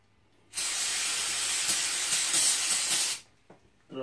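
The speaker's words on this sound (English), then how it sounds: "I use a brake cleaner." A can of brake cleaner sprays onto a rag in one loud, close hiss lasting about two and a half seconds, then cuts off abruptly, followed by faint handling noises.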